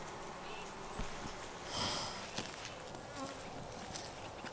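Honey bees buzzing around a beekeeper working at the front of a hive, a steady faint hum with a brief louder swell as one passes close, plus scattered small knocks and rustles.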